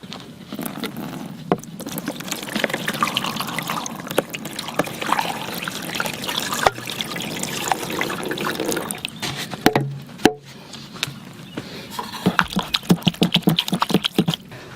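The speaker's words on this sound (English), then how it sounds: "So I will pour some water now and we will see what can happen." Water splashes and trickles steadily for several seconds into a clogged body drain on a Mercedes-Benz W126, with scattered drips and small knocks, ending in a series of separate drips.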